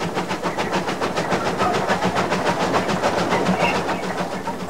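A steam locomotive of the Ghan, belching smoke and steam, runs along the rails with a steady rhythmic chuffing and clatter, loud and close, continuous throughout without voices.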